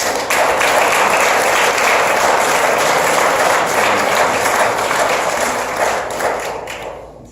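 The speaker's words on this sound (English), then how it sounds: "Let's give her a round of applause." A crowd at a funeral applauds steadily and loudly for several seconds, the clapping fading out at the end.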